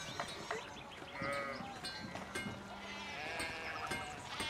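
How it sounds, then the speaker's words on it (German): Sheep bleat in the medieval video game Pentiment, several overlapping calls from the flock rising and falling over a quiet background, some near and some farther off. "Ach, die Schafe versperren das."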